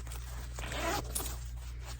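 A zipper on a handmade sewn butterfly sling bag is pulled once in a quick, close ripping stroke, quiet and alone over a low steady hum.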